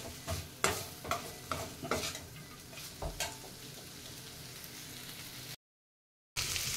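Broad beans (avaraikkai) being sautéed in a pan, with repeated stirring scrapes and a soft sizzle that turn quieter toward the end before a short gap of silence.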